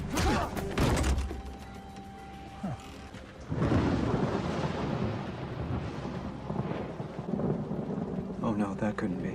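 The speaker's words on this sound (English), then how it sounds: "It's raining." Stormy night with heavy rain pouring steadily, a loud thunder crack near the start, and a rolling boom partway through; brief muffled voices surface faintly under the downpour.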